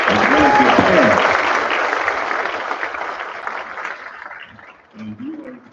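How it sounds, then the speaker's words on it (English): Round of applause for athletes and coaches at a school board meeting, full clapping from the room that gradually thins and fades out, then a voice speaks briefly at the end. "let's give all of our recipients and our athletes and coaches a round of applause"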